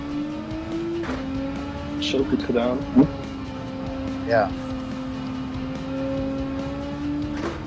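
A racing car's engine in the video game Gran Turismo 7, on the Autopolis circuit in Japan, holds a steady droning note throughout, with brief tire and shifting noises, under someone talking.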